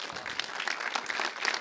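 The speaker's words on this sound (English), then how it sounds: "A big round of applause." A roundtable business audience gives a warm round of applause, dense continuous clapping from many people at moderate distance, even and sustained through a short stretch.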